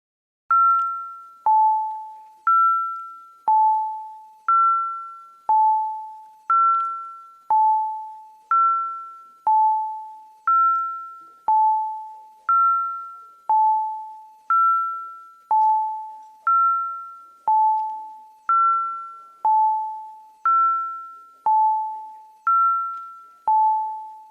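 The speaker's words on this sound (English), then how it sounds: "let's ring the bells" Two-tone electronic division bells in a city council chamber chime in a steady alternating high-low pattern for the full stretch, clear and evenly paced with no talking, summoning members for a vote.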